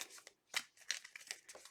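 Quick bursts of tarot cards being shuffled, a few crisp riffling flutters close by with short pauses between them.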